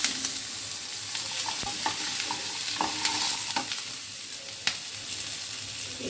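Potatoes sizzle and crackle in hot oil in a pan, with a steady close frying hiss and occasional scraping clicks as they are stirred, no voices.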